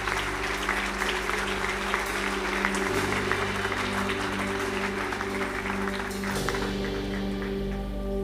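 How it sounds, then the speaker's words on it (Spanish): Congregation applauding during a church sermon, steady sustained clapping over sustained low musical tones from accompanying instruments, even loudness throughout. "Dale un fuerte aplauso,"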